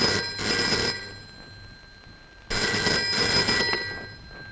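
An old-style telephone bell rings in two loud, shrill bursts separated by a pause, close and clear in a quiet indoor room from a dramatic film scene.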